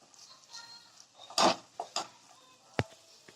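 A spoon scrapes and clinks in a pan while tomato thokku is stirred with chilli and coriander powders. Several soft knocks and scrapes come at irregular intervals, close and fairly quiet.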